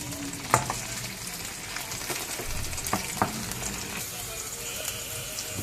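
Chopped onions gently browning in a pan for lasagne bolognese give a steady close-up sizzle, broken by a few sharp clacks of stirring.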